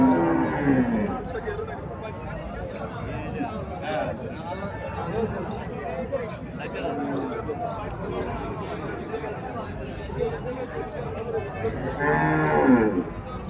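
A local-breed cow gives low, drawn-out moos, one at the start and another near the end, while people talk steadily nearby.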